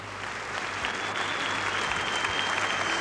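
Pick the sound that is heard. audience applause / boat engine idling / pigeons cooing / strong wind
audience applause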